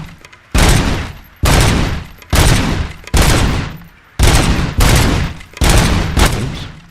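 Gunfire aimed at targets in a RoboCop video game: seven loud, sharp bursts of rapid automatic shots, each lasting under a second, separated by short gaps, close and dominant with no talk.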